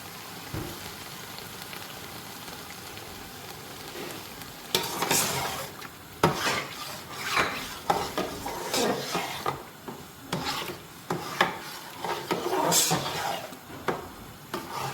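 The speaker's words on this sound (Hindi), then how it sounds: "तेज़ आंच पे इसकी भुनाई करनी है।" Palak chicken stir-fried over a high flame, a steady frying hiss broken by repeated scraping and clattering of a spoon against the pan, growing louder and busier midway, with no talk.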